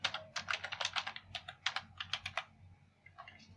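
Rapid bursts of typing on a computer keyboard as Arduino code is entered, crisp close key clicks in quick clusters with brief pauses between them, no voice.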